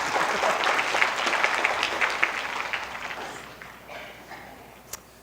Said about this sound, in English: Give yourselves a round of applause for those thumbs.